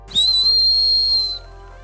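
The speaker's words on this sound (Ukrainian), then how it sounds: "має вбудований свисток для екстрених випадків" An emergency whistle built into the sternum strap buckle of a Leleka Dwarf ultralight backpack gives one loud, shrill, steady blast lasting just over a second, close and alone.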